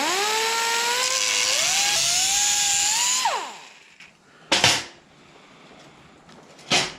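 A power cutting tool slices off the old seat pans of a Mach 1 Cobra Jet, its loud, high whine shifting in pitch for about three seconds before spinning down, followed by two sharp metallic knocks.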